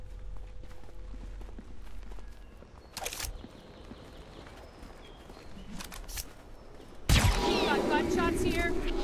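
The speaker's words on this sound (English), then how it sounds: "Got gunshots here." Gunfire in the video game Hitman Absolution: a few sharp broadband bursts, one short volley early, then a louder, longer burst near the end over a low steady game ambience.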